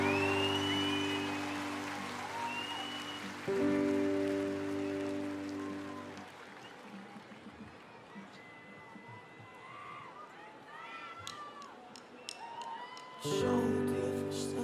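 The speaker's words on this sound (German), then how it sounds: "Bitte macht mal einen riesen Applaus, dass ihr alle da seid." A festival crowd at an open-air rock concert claps and cheers in a broad, distant wash between stretches of sustained band tones, rising again as the music returns near the end.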